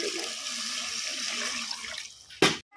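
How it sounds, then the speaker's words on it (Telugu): Water pours steadily into a cooking pot of chicken curry, a continuous rushing splash that stops abruptly near the end, followed by a brief clunk. "ఇందులో కొన్ని అయితే వాటర్ పోస్తున్నాం."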